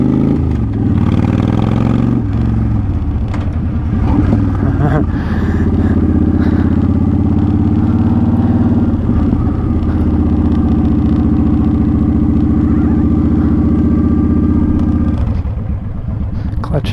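Motorcycle ridden at slow speed during low-speed maneuver practice, a loud close engine chugging and revving with clattering, settling into a steady idle-like drone when the clutch is pulled in.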